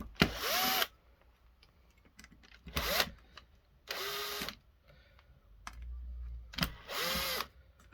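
A power drill undoes screws on an office phone's circuit board, giving four close, loud whirring bursts of about a second each, each rising in pitch as it spins up, with short quiet gaps between.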